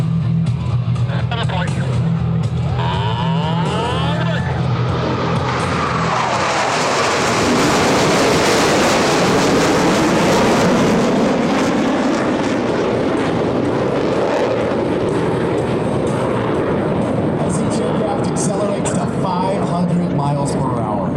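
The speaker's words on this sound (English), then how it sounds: "all four aircraft converge on center point with maximum closure and minimum separation" US Navy Blue Angels jets converging on center point, four aircraft at the 2024 homecoming airshow: a loud, continuous jet roar swells to a thundering peak at mid-clip then holds steady, with an announcer's voice faintly underneath.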